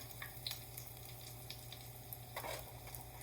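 Food frying in an oversized pan, a soft steady sizzle with occasional pops and faint scraping, heard fairly quietly at close range with no talk.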